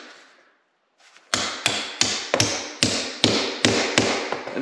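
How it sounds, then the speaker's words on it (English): A hammer drives nails into a hole in concrete in a steady series of about ten sharp, ringing blows, loud and close, with a brief quiet pause before the strikes begin. "Get your nails in there. Take your hammer."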